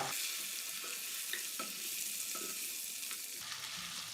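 Steady sizzling of boiled mutton frying golden in a pan, with faint stirring scrapes now and then; continuous and close, no voices.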